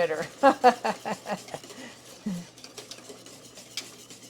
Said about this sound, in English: slowly add it, and I just constantly stir while we're adding it